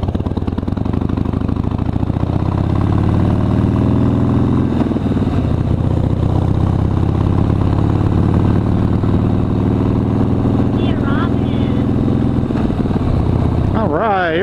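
A motorcycle engine runs steadily at idle, a loud close rumble that holds through the whole stretch while people talk over it.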